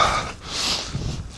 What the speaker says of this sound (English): Yeah, I need to blow my nose.